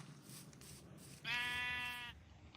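A single sheep bleat in a farming video game, clear and moderately loud for about a second over quiet background noise.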